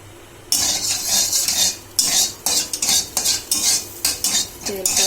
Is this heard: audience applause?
no